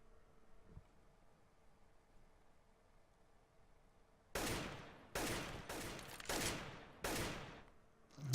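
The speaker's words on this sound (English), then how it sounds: "Suppressive AK fire," Suppressive AK rifle fire in a StarLeague CPLAY vs Kerch.net esports match: after quiet, about five loud bursts of automatic gunfire follow in quick succession, each sharp and clustered.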